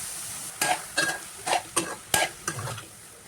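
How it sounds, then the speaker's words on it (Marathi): Several short bursts of sizzling and stirring as soaked soybeans hit hot oil and fried masala paste in a pan, each scrape and hiss distinct, close up with no talking. "आता यामध्ये भिजलेली सोयाबीन टाकायची."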